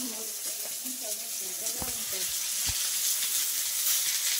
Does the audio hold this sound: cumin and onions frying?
yes